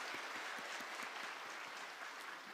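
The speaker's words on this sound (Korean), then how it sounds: "하나님께 영광의 박수 올려드리겠습니다" A church congregation applauding together to give glory to God during a special early-morning revival service held with three generations, a dense steady wash of many hands clapping that fills the room, with no voices over it.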